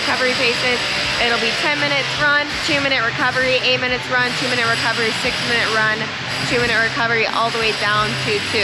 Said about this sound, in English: There is some construction work going on at the gym right now we are at, so it's gonna be pretty loud.